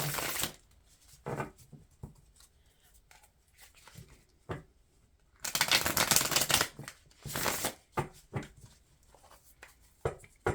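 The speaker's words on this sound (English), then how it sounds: "do some shuffling." Cards being shuffled up close, several short riffling bursts with one longer, louder riffle midway, separated by quiet handling sounds.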